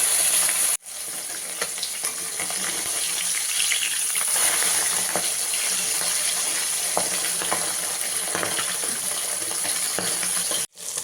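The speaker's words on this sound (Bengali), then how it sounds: "কড়াইতে সর্ষের তেল দিয়েছি তেলটা গরম হয়ে গেছে এবার পাবদা মাছগুলো ভেজে নেবো" Pabda fish fry in hot mustard oil in a wok, giving a steady, close sizzle and crackle that stays level throughout, with a brief clink near the start and end.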